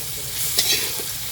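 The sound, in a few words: garlic paste frying with onions, stirred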